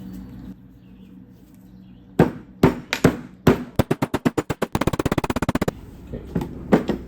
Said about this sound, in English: Now I can hammer here